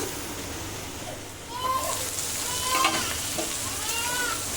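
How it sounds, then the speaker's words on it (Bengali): Ripe cut jackfruit fries and is stirred in a pan, with a steady close sizzle and intermittent scraping strokes throughout, under some faint background voices. "কেটে রাখা কাঁঠাল খুব ভালো করে কষিয়ে নেব"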